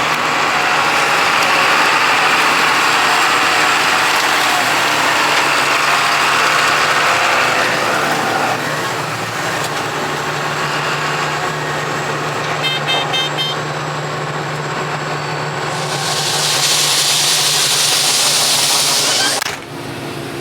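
International 8300 truck engine idling steadily while a load is dumped, a loud continuous rumble across the whole stretch with a brief higher hiss or horn-like burst near the end.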